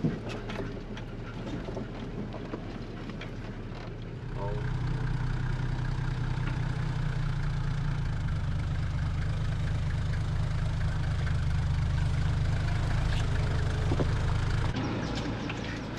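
A vehicle engine idles steadily while backing a boat trailer down a steep, bumpy ramp for a small tinny boat in tropical Australia. A quieter rumble deepens after a few seconds into a fuller, constant drone, with no talking.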